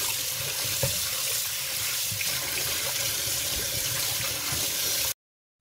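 Fresh plums are washed under a running kitchen tap. The water pours in a steady, close hiss, with small splashes from the fruit being rinsed, and stops abruptly just before the end. No one speaks.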